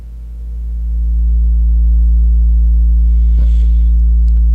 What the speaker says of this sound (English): A sine wave is the purest of sounds, and it should only comprise of a single frequency.